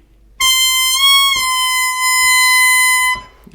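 Blues harmonica lick: a long, held, reedy note with a slight bend partway through, played solo and close for about three seconds.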